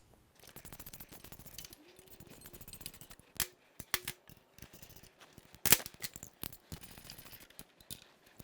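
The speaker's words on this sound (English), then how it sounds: "we're gonna evenly tighten all the bolts just so they're nice and snug" Bolts are snugged down on Wunderlich engine protection bars fitted to a BMW F900 XR / F900 R motorcycle, giving irregular bursts of close metallic clicking and ratcheting, with a few sharper knocks and brief pauses in between.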